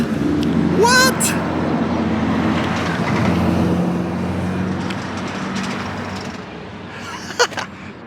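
A classic Ferrari 275 GTB passes on a Scottish Highlands road, its engine rising as it nears and fading away, mixed with other passing traffic while people speak excitedly over it.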